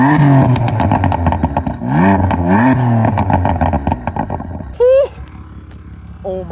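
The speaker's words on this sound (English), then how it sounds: "Gonna get some revs on the M4." A BMW M4 engine fitted with aftermarket midpipes revs hard in repeated rising and falling bursts, loud and close, ending with a sharp high blip.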